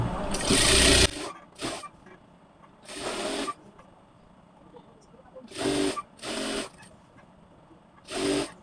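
Sewing machine stitching petticoat fabric in short bursts, one long run followed by several brief and mid-length runs separated by pauses, fairly close and moderately loud.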